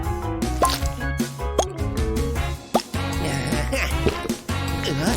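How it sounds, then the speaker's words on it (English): Glue drips onto a seashell craft in a run of wet plops and squishy drips, some bright and pitched, others soft, spaced irregularly and close up, with no speech over them. "Now drip some glue over it."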